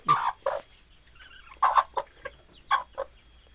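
Chicken clucking close by, beside its coop on a small poultry farm, in several short bursts with brief pauses between, no talking.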